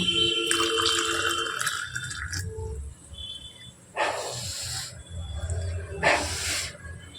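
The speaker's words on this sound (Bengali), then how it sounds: "এবার এটার মধ্যে একটু গরম দুধ দিয়ে দেব" Hot milk poured into a pot of chicken biryani, giving a soft hissing, splashing pour in short bursts, close and fairly loud, with gaps between pours.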